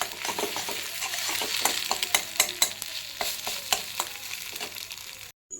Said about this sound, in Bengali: প্রথমে আমি ডিমটাকে এরকমভাবে একটু ঝুড়ো করে নিচ্ছি ডিমটাকে